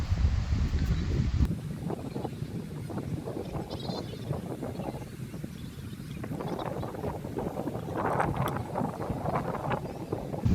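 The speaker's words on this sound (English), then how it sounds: "It's quite windy." Gusty wind buffets the microphone with a low rumble throughout, and bleating animals can be heard in the background.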